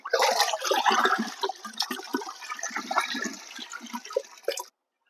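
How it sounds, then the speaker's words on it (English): A gel soil solution is poured into a large volume of water, a continuous close gush and splash that slowly eases over several seconds before stopping abruptly. "Then we have to add this solution into 200 liters of water."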